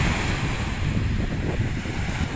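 Rough sea waves at a beach in Oriental Mindoro, a constant loud roar of surf mixed with wind buffeting the microphone, no voices.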